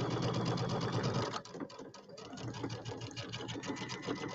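A sewing machine runs steadily while stitching a quarter inch seam across glitter vinyl, a loud, fast, even mechanical chatter that slows briefly in the middle before picking back up.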